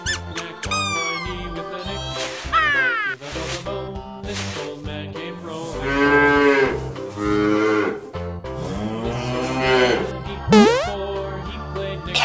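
A cow moos in long, drawn-out calls over a cheerful musical backing, with squeaky animal noises scattered among them.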